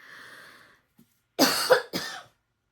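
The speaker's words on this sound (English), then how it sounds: "Oh, gross. Coughing." A faint voice, then after a pause two sharp, harsh coughs close by, followed by silence.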